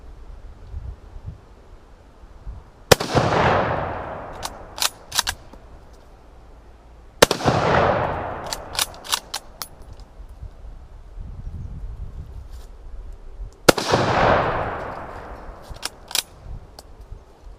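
Three loud shots from a sporterized Mosin Nagant Type 53 rifle ring out several seconds apart, each with a sharp crack and long echoing rumble, followed by metallic clicks of handling.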